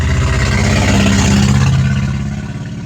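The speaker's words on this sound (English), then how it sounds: "that car was really loud." A loud car roars past close by, a dense engine and road noise that swells and then begins to fade as it moves away.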